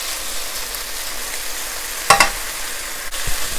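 Beef browning in a pan for Japanese golden curry gives a steady, close sizzle, broken midway by a brief clatter of stirring and a softer knock near the end.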